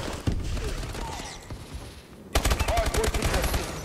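Automatic gunfire in the video game Call of Duty Advanced Warfare, a dense fusillade of rapid, evenly spaced shots that grows louder and sharper partway through, heard close.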